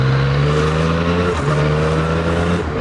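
A Yamaha MT-09 Tracer motorcycle engine pulls hard and close, its steady loud drone rising in pitch with two brief dips where the gear changes before it climbs again.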